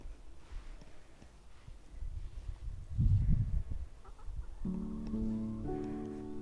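Hens cluck softly nearby in a forest garden, a low burst of murmuring clucks followed by a few short, harmonic calls, in a quiet outdoor setting.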